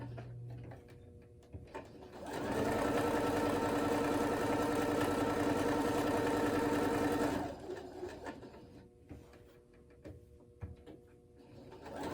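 Sewing machine stitching a dog kerchief runs in one steady, close whirring burst of about five seconds, with quiet handling and pauses before and after.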